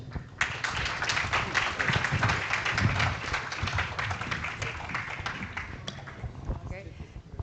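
Conference audience applauding panelists after a maritime security discussion, dense and steady clapping that holds for several seconds, with voices mixed underneath before it fades slightly.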